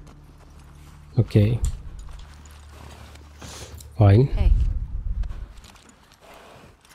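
Horse hooves clip-clopping in the video game The Last of Us Part 2, two short bursts of hoof clatter over a quiet game background, with a brief spoken voice between them.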